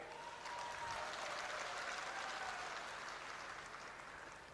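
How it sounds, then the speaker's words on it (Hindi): Audience applause at a political rally in Bhind, Madhya Pradesh, a sustained even wash of clapping from a large crowd, steady and moderately loud, fading slightly at the end. "अभी ताली बजाई है"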